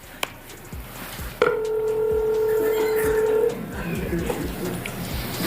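A telephone keypad tone sounds as someone dials a phone for a call in a live TV comedy sketch, a steady electronic tone lasting about two seconds, preceded by a click, with faint background noise and murmur.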